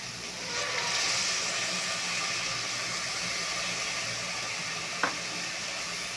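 Chicken biryani mixture with curd being stirred in a pot, a steady close hiss of sizzling throughout with one brief scrape of the spoon near the end, no voices.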